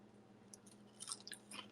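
Crispy waffles being chewed close to the mic, faint soft crunches that build into a cluster of brighter bites near the end, over a low steady hum.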